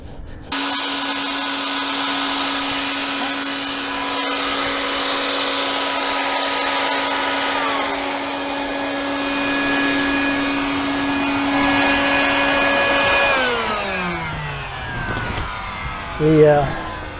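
A loud belt sander sanding boat gelcoat whines steadily with a high motor tone, running continuously before winding down near the end.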